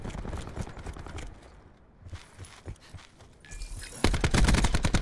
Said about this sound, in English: none of my bullets are hitting because I'm getting shot